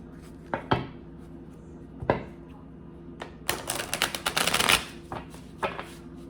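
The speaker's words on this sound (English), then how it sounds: "So I'm going to just pull some cards to put them aside, and then we're going to get into the tarot." Tarot cards are shuffled in short bursts: a few isolated riffles and a dense flurry of quick, crisp card flicks, close and fairly quiet, with no talking.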